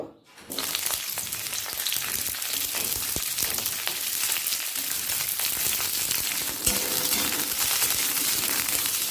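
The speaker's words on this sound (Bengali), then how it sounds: "কড়াতে সাদা তেল দিয়ে সবজিগুলোকে হালকা ভেজে নেব প্রথমে কপিটাকে ভেজে নেব" Cauliflower pieces frying in white oil in a wok for egg chowmein, giving a steady, dense sizzle that starts after a brief quiet moment and holds loud and close throughout, with a few sharp crackles.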